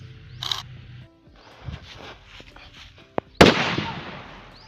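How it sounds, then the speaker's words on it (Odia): A firecracker set off by a mobile-controlled fuse bursts outdoors. After a few quieter rustles and a sharp click, a single loud bang is followed by a brief crackling decay. "ଦେଖିପାରୁଥିବେ ଫ୍ୟୁଜ୍ରେ ନିଆଁ ଲାଗିକି ବାଣଟି କେମିତି ଫୁଟିଲା"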